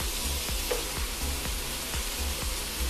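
Chicken, bacon and garlic sizzle and fry in a pan, a constant close crackle with soft rhythmic scrapes of stirring about every half second.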